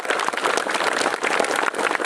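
Applause for children at a Scout jamboree opening assembly: dense, steady clapping from a crowd fills the whole stretch without a break, fairly loud and close.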